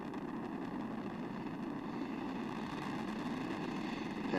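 Space Shuttle Discovery's three main engines roar during launch from Kennedy Space Center, a steady, dense broadband rumble that holds unbroken and loud throughout, with no voices.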